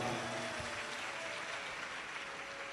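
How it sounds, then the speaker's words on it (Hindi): A large audience at a Hindu Shiv Mahapuran religious discourse in Raipur, Chhattisgarh, claps in a dense, steady wash of applause that sounds fairly distant and soft throughout. "एक बार बेटी के लिए जोरदार ताली बजाओ"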